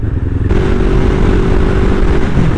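A motorcycle being ridden, loud and steady engine drone with a gear change partway through as the bike pulls up into sixth gear, with wind rush throughout.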